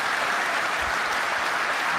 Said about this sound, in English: that's what they're clapping for.